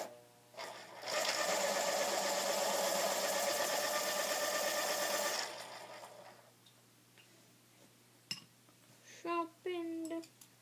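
An electric pencil sharpener whirs loudly for about four seconds as pencils are sharpened, followed by quieter clicks and light handling of pencils.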